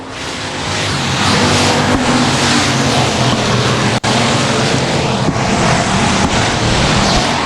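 Race cars at Boothill Speedway roaring past in a loud, dense wash of engine noise that swells and holds, with a sharp momentary dropout partway through.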